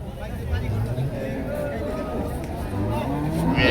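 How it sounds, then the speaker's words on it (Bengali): Milk cows, crossbred, Australian and local breeds with calves, mooing at a crowded cattle market in Dewhata, Tangail, with low calls rising out of a steady hubbub of people talking nearby. "এখানে গাভী গরু রয়েছে। এই পাশেও অনেক গাভী গরু রয়েছে প্রচুর পরিমাণে"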